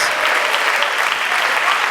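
Church congregation applauding together in a dense, steady burst of clapping that fills the room, with voices faintly mixed in.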